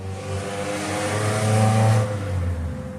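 A car drives by close and loud, its engine swelling to a peak near the middle and then fading. A steady tonal hum runs underneath the whole time.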